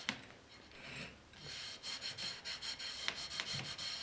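Soft soap rubbed by hand onto a Spode blue-and-white transferware print gives close, dry, rhythmic scrubbing strokes, quieter at first and then steady and repeated, with no talking.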